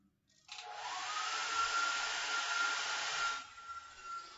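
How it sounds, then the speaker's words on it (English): A hair dryer blows steadily and loudly for about three seconds with a faint high whine, then cuts off, leaving a quieter hum. "I'm using the dryer"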